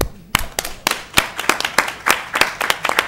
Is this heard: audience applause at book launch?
yes